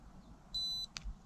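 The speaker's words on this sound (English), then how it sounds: "you will hear a beep" One short, clean electronic beep from a trail camera powering on sounds in a quiet room, followed by a brief faint click.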